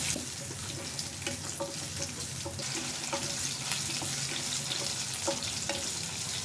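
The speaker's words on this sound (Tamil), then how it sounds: "இப்போது இதில் 20 சின்ன வெங்காயம் சேர்த்து வதக்கிக்கோங்க." Twenty small onions sauté in hot oil for a spicy kuzhambu, a dense continuous sizzle with light scraping and stirring clicks throughout.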